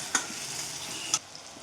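Onions and green chillies frying in a pan, a soft steady sizzle with two sharp scraping stirs of a spoon.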